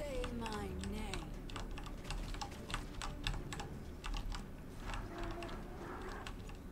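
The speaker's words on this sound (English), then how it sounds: "Can hear you keyboard smashing." Rapid computer keyboard typing clatters in quick irregular bursts of clicks, close and fairly quiet, with faint game sounds in the background during a Paladins stream.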